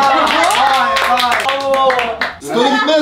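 A small group of people indoors claps in quick, close bursts, heard under loud overlapping voices and shouting throughout.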